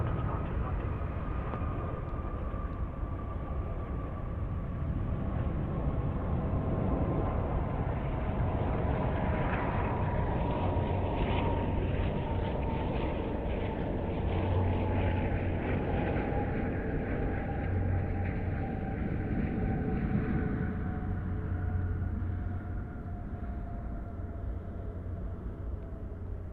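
Emirates A380 engines roar at Sydney Airport at night as the airliner passes, a steady distant jet rumble with a faint high whine that swells gently near the middle and then settles over nearly half a minute.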